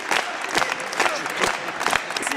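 A crowd applauds at a local campaign gathering with steady clapping in uneven swells, close and fairly loud, with voices mixed into the noise.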